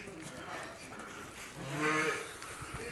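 A young bull calf lowing once, a mid-length moo swelling up and fading, near and fairly clear over a steady outdoor background with some voices around.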